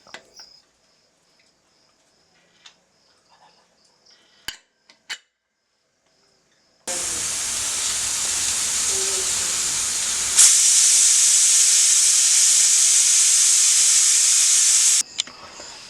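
A pressure cooker vents steam while cooking mint rice, first a few faint clinks, then a loud continuous hissing whistle that grows sharper and stays steady for about eight seconds before cutting off abruptly.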